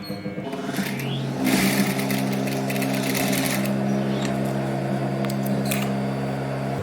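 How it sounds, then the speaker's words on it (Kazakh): A sewing machine runs steadily at close range, stitching along drawn lines on fabric for a child's quilted piece, with a brief clatter as it starts and then an even mechanical hum. "Енді машинкамен тігіп шығамыз үстінен."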